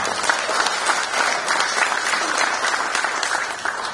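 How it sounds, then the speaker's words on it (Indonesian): Audience applauding at an AHY political speech celebrating a presidential election win, dense steady clapping from a large crowd, sustained and fairly close throughout. "Boleh tepuk tangan."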